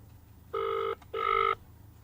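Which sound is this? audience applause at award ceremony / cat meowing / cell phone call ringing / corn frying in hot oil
cell phone call ringing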